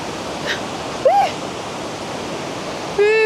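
Steady broadband roar of a large waterfall in Taiwan, in rain, fills the clip, with a couple of faint whistling tones briefly rising above it.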